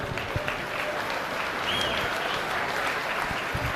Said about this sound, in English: Let's give all these kiddos a nice round of applause.